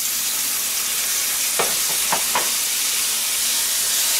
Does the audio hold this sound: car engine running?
no